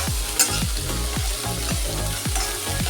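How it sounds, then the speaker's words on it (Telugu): A little oil, about three tablespoons, heats in a kadai and fries with a steady, close sizzle, broken by rhythmic stirring scrapes that repeat roughly every half second. "కొంచెమే నూనె వేసుకుని ఫ్రై చేసుకోవాలి"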